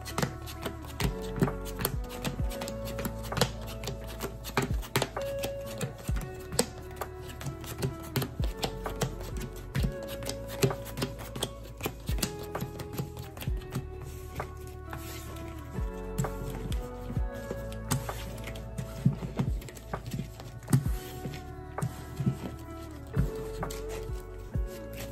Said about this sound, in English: Let's go ahead and do another shuffle.